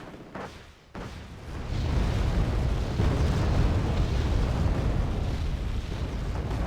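Tanks fire in the Cold War strategy game Wargame: Red Dragon, near the Busan Pocket, with a heavy booming blast opening into a sustained low rumbling roar that keeps going after the shot.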